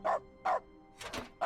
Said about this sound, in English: the dog mode really just makes it bark whenever you hit the interact button